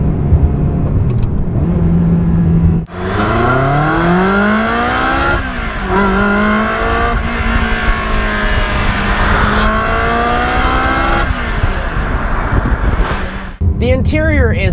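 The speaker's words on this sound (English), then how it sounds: "there's nothing like the sound of a Ferrari V8" A Ferrari 360 Spider's V8 engine roars loud and close, revving up and down through repeated rising sweeps, with a brief drop in the middle and another at the end before it picks up again.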